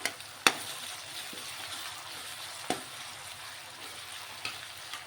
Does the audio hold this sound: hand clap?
no